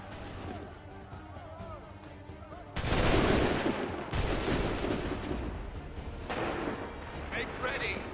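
A volley of muskets fires on command in Assassin's Creed 3, a loud crackling burst followed by a second ragged wave of shots, with shouted orders heard before the firing.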